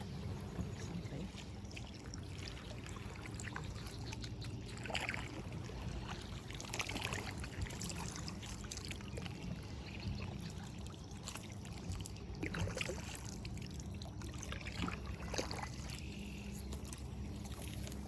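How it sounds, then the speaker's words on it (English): A distant motorboat speeds across Georgian Bay, a steady low drone under a broad wash of water and reeds, with no talk. "Still hear someone's boat going hell for leather out there"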